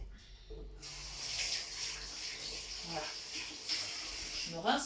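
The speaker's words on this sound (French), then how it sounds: "Je me rince les mains parce que j'ai quand même de la crème sur les mains" Water runs steadily from a kitchen tap while hands are rinsed clean of cream, a continuous close splashing stream that shifts slightly as the hands move through it.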